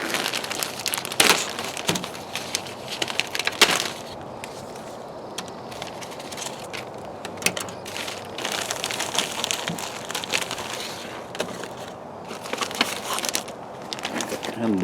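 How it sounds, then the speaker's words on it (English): Plastic bags holding Dendrobium speciosum orchid plants crinkle and rustle in close, irregular bursts of crumpling through the whole stretch, fairly quiet and steady without a pause. "They're in these plastic bags like this."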